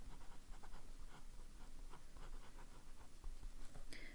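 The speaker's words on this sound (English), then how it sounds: "You can hear writing," An Esterbrook x Bungubox Kingfisher fountain pen with a plain medium nib scratches faintly across paper in soft, close, irregular strokes against a quiet background.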